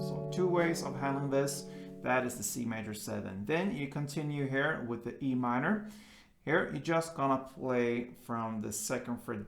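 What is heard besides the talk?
No everyday noises stand out.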